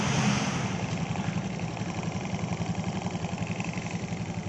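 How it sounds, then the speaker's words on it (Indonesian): A carbureted Honda Beat automatic scooter engine runs at a steady, close idle, with a continuous low throbbing putter and no talk over it. "Kita coba untuk menghidupkan dulu sepeda motornya."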